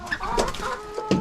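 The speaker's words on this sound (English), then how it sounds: "So, those are our chickens." Backyard chickens clucking inside a coop in the morning, several close, fairly loud clucks and short calls in a quick burst with no talk.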